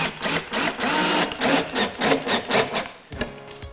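A screw is driven by hand into a slightly warped board of a recycled-wood birdhouse, giving a run of rhythmic rasping, creaking turns up close.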